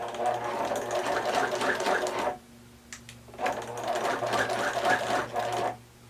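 A sewing machine stitches a fabric face mask close to the edge, running in two steady bursts of about two seconds each separated by a short pause, loud and near with no talk over it.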